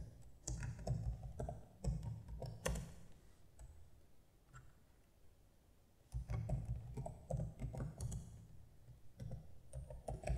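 Fingers clatter on a computer keyboard during a Visual Basic 6.0 programming lesson, with bursts of rapid, close keystrokes separated by brief pauses.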